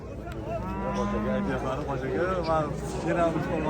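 A cow moos in long, low drawn-out calls, close by, while people talk and haggle over and around it at a busy outdoor livestock market in Angren.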